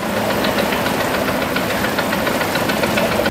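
A houseboat's engine runs in a steady, dense mechanical drone with a rapid knocking pulse, loud and close, on the backwaters of Alappuzha in Kerala beside rice paddies, with no voices over it.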